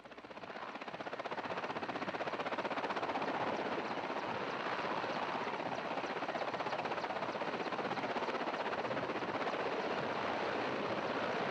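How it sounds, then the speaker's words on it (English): Loud, steady helicopter rotor drone with a rapid rhythmic chop as helicopters take off, sustained and close throughout, no voices. "As you can tell just from the helicopters taking off"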